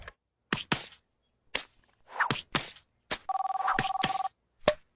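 A telephone in a French cartoon rings with a short bright electronic trill, loud and close, set among sharp comic whacks and thumps with brief pauses between them.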